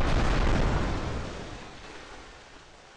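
A big blast from many bombs going off at once in a worms video game, a loud rumbling explosion at the start that slowly fades over a few seconds, followed by a small pop at the end.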